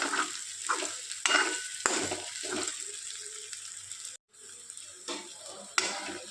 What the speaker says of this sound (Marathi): आता हे दाणे आपले शिजत आलेले आहे तेलामध्ये